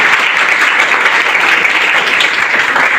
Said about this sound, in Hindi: एक बार जोरदार ताली अपने लिए बजाइए।